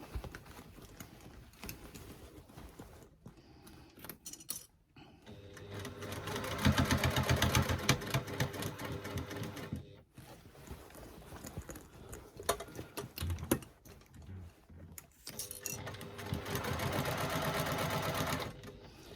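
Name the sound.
sewing machine stitching a fabric bag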